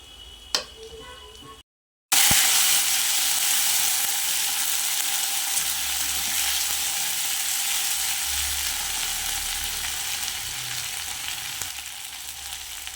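Ginger garlic paste and chopped tomato hit hot oil in a home kitchen pan. A few faint clicks come first, then a brief gap, then a loud, steady sizzle that holds throughout.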